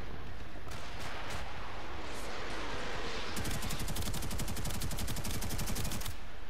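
Rapid gunfire in a multiplayer video game, first a dense crackling barrage, then a fast automatic burst of evenly spaced shots, loud and continuous.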